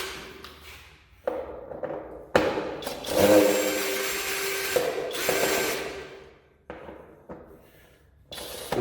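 A power screwdriver backs screws out while a BMW F800GS motorcycle's battery is replaced, with several whirring bursts of a few seconds each separated by brief pauses and thuds, loud and close, with no speech.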